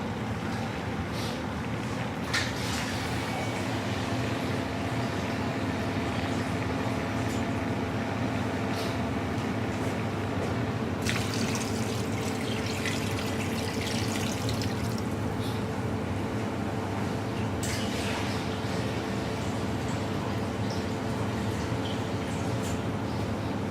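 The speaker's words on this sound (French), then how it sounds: "Et on va mouiller à l'eau." Water poured into a cooking pot of herbs in a restaurant kitchen, a steady close splashing wash that runs continuously with a low background hum and a few brighter surges, no talk.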